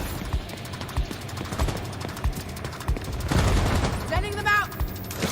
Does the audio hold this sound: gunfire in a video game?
yes